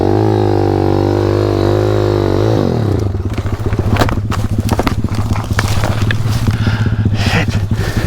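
A KTM 250 SX two-stroke dirt bike engine holds a loud, close, steady drone, then drops off and turns into a rapid popping, sputtering idle with clattering and scraping.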